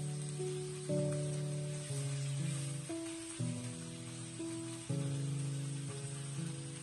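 Stem mustard stir-fried with cured pork in a wok gives a steady, even sizzle that runs under music throughout.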